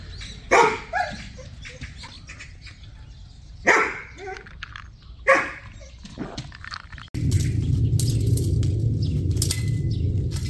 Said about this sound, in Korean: 너 오면 자꾸 루이 막 짖잖아